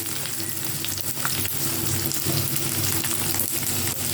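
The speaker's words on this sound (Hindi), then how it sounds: "थोड़ा सा हल्का सा गोल्डन फ्राई करेंगे" Onion, capsicum and cabbage fry loudly in a pan, cooked lightly to a golden colour while staying crunchy. The sizzle is dense and constant and sits close, with faint stirring and no voices.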